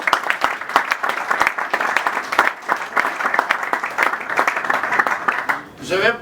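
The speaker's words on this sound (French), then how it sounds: "Vos acclamations, s'il vous plaît." Dense, steady clapping from an audience at a UDPS party ceremony installing a new bureau and its new secretary general, sustained for several seconds before tapering off as a voice comes in at the end.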